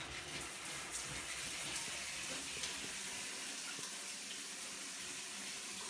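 Steady water running from a household tap, a constant broadband hiss of flow that stays even and fairly quiet throughout, with no voices.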